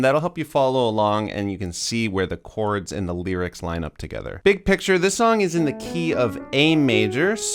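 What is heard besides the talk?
None of the usual background noises is heard.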